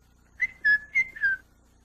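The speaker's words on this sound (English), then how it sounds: "Wilhelmina likes to whistle and wiggle" Four short, bright whistled notes in quick succession, close and clear, the third slightly shorter and the last gliding downward, over near silence with no talk.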